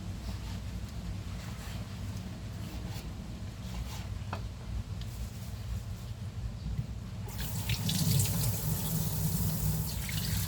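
Tap water runs steadily over something being rinsed in a kitchen sink while squid salad is prepared, a low continuous flow that grows louder and brighter near the end.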